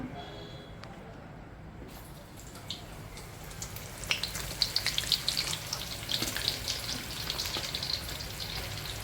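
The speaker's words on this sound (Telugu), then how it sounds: "ఇప్పుడు నూనెలో వేసి వేపుకోవాలి టంగు అని శబ్దం రావాలి" Meal maker soy chunks dropped into hot oil for pickle, a dense frying crackle that swells into bursts of popping sizzle partway through and stays loud and continuous.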